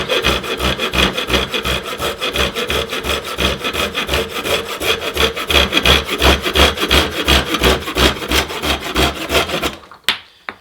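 A Silky F180 folding saw cuts through clamped wood in fast, even back-and-forth strokes, a loud rasping rhythm close by that runs for most of the clip, then stops, leaving a couple of faint knocks.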